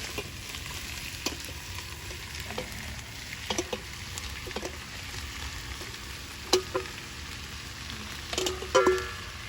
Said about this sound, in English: Now that we have our onions lightly sauteed, I'd like to add the paprikas, or peppers.